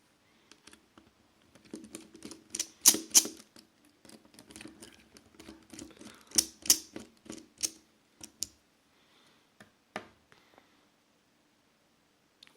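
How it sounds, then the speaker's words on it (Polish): Small screws being unscrewed from a Sony Ericsson K750i phone during disassembly, giving sparse, close, faint ticking and clicking taps in short irregular bursts, with no talking. "I odkręcamy dwie śrubki."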